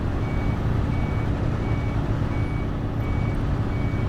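Lorry reversing alarm in a driving video game: a faint, steady series of regularly spaced beeps sounding over a loud, constant engine rumble and road noise.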